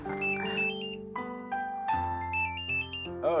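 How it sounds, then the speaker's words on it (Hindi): A melodic phone ringtone plays up close, a bright chiming tune of repeated electronic notes with no voices. "ओए, दुबई का नंबर है। विकी का फोन हो गया"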